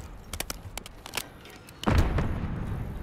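A frag grenade detonates in the video game Call of Duty: Black Ops 6, a single loud, heavy blast with a lingering rumble following a few scattered sharp gunfire cracks.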